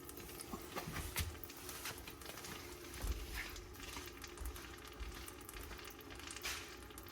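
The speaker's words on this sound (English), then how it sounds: "Oil is draining." Engine oil drains from a third-generation Toyota Tacoma in a soft, continuous trickling patter, faint and steady throughout without speech.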